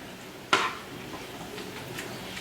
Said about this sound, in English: I'm going to give that a mix around.